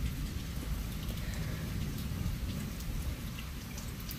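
Steady heavy rain of a night thunderstorm pours down continuously, with low rumbling thunder underneath and scattered drops pattering on surfaces, no voices.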